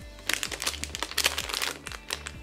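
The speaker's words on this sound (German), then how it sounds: "fangen wir einfach mit dem ersten an." A plastic blind bag holding a small Breyer Stablemates toy horse crinkles and crackles steadily as it is torn open by hand, close up, with rapid rustling bursts and no talking.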